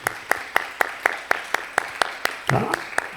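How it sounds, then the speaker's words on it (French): Church congregation clapping in unison, about a dozen sharp, evenly spaced claps in a steady beat, fairly close, with a murmur of voices rising near the end. "Est-ce qu'on peut applaudir le Seigneur pour ces personnes-là?"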